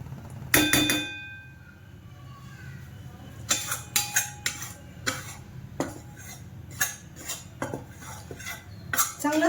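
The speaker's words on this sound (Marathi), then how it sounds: "कोरडं पहिलं पीठ भाजून घ्यायचंय आणि मग तूप टाकायचं।" Ragi flour is dry-roasted in a pan and stirred, with a spoon scraping and clanking against the metal in repeated sharp knocks and clinks, close and fairly loud.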